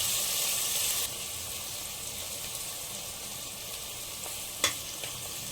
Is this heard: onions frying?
yes